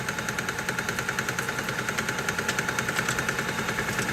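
A metal-cutting machine, turning at about 600 RPM during a hydraulic press repair, takes 1 mm off the diameter per pass with a steady, close mechanical drone and a fast, even rhythmic pulsing.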